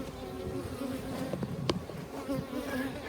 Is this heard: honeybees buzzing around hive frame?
yes